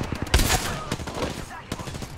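Gunfire from an Apex Legends match, a loud sharp shot up front followed by a rapid rattle of further shots and a later crack, dense and continuous over game ambience.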